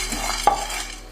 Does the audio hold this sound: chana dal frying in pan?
yes